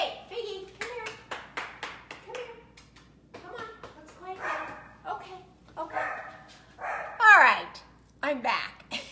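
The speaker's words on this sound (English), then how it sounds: "Hold on, I have to yell at the dog." A dog in a home barks repeatedly in sharp, close bursts, mixed with a person talking and calling out over it.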